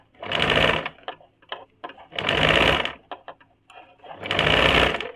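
A sewing machine stitches a half-folded border strip on a kurti in three long, loud runs, each about a second long, separated by short pauses filled with small clicks and handling noises.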